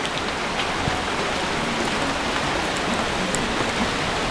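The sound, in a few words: heavy typhoon rain falling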